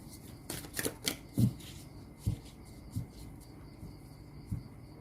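Tarot cards are shuffled quietly near the microphone, giving soft riffling rustles and a few sharper taps at irregular intervals against a hushed background.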